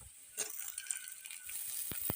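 Tomato frying in a hot pan as it is stirred, a steady faint sizzle with a few soft scraping taps. Two sharp knocks come near the end.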